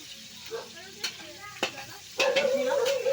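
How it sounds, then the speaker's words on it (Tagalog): Food sautés in a pan with a sizzle under brief stirring scrapes, close by, and a louder burst of frying near the end. Soft voices can be heard faintly in the background. "Pinapapulalan lang konti yung kanyang ginigisa."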